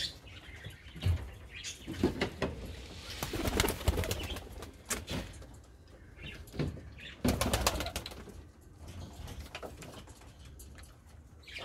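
Pigeons coo in a coop, with soft repeated low coos, chirps and occasional wing flaps, fairly close and uneven in rhythm, with no talking.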